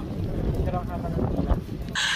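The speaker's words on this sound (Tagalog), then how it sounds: "napakalakas ng hangin dyan mga beb at hindi kami nagkakarinigan" Strong wind buffeting the microphone beside a boat ride, a dense continuous roar with gusty surges across the short clip, ending in a brief hiss.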